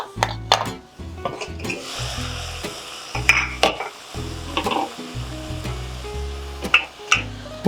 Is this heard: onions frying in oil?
yes